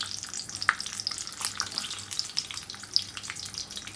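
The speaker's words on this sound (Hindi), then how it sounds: "अब हम इसके अंदर मिर्चें रख देते हैं इस तरीके से।" Green chilies fry in hot oil with a steady close sizzle, scattered sharp pops and crackles running throughout, and no voices.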